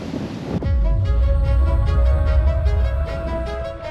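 Strong 22-knot wind roars steadily across the microphone aboard a sailing schooner beating upwind at sea, broad rushing noise and deep low rumble, loud and continuous after a brief quieter start.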